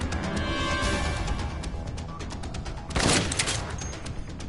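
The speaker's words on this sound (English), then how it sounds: "Someone's shooting from the floor above." Gunfire from the floor above in the video game Dead Rising, a steady rattle of shots under dense game noise with a louder, sharper burst near the end.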